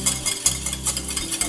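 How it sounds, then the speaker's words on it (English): A whisk stirs piña colada glaze boiling in a pot, giving repeated scraping strokes in an uneven rhythm with a low bubbling underneath, close and fairly loud. "So I'm whisking."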